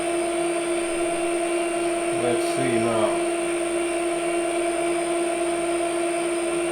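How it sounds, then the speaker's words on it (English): A drill turns at slow RPM, lubricated with cutting oil, while boring a groove in a metal part for an angle grinder support. It gives a steady, even hum throughout, with a brief spoken remark near the middle. "So I use quite slow RPMs here because I don't want to break this drill."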